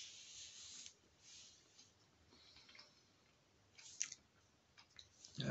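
Someone chews smooth Asda salmon paste, with soft moist smacks and faint clicks up close, quiet throughout and a little louder toward the end.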